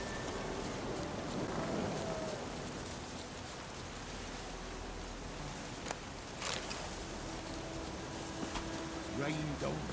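Steady rain patters softly in the background of the video game The Witcher 3, faint and continuous, with a few brief clicks and tones over it.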